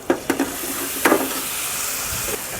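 Tomato gravy and chili powder sizzling in a pan at a roadside thali kitchen, a steady hiss broken by a few sharp ladle clanks and stirring scrapes, close and without talk.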